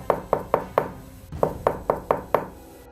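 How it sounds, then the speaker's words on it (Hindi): Knocking on a door, two quick bursts of four and five sharp knocks, close and loud, with a brief pause between the groups. "तभी उसे अचानक दरवाजे की खटखटा की आवाज आई।"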